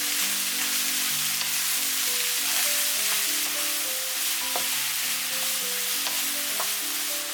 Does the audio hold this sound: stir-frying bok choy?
yes